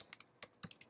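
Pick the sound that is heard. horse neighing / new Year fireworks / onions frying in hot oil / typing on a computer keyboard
typing on a computer keyboard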